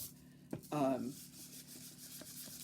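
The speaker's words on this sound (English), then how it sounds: "But I used 400, and as I'm sanding through, I'm getting sort of a Venetian plaster sheen" A short scratchy rubbing stroke of 400-grit sandpaper across a furniture surface, up close, followed by a few faint lighter scrapes.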